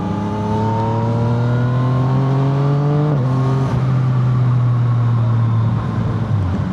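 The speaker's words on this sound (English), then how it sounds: "let's just overtake this car" A motorcycle accelerates to overtake a car, engine whine climbing steadily in pitch, dropping briefly at a gear change, then rising again under constant wind rush with no talk.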